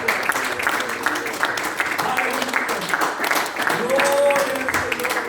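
A church congregation at a bilingual Sunday service applauds for the Lord, a broad wash of clapping heard beneath overlapping voices and cheers, with a brief sustained vocal tone rising near the end.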